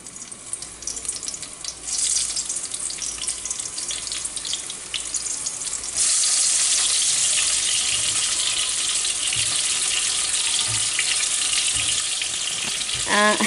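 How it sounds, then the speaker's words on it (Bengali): Potatoes and eggplant frying in oil, a loud continuous sizzle close by that grows fuller partway through and stays steady, with faint stirring clinks. "এটা এখানে আলু আর বেগুন নিয়েছি, এটা আমি তেলে ভেজে তারপর এটাকে রান্না করব বড় মাছ দিয়ে"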